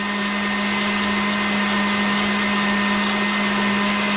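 An electric mixer runs on high, whipping chocolate mousse with sugar. It gives a loud, steady motor whine that holds one pitch close by, alone and unchanging.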